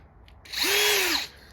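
A power drill fitted with a long drill bit whirs up loudly for about half a second, its pitch rising then falling, before spinning down to quiet.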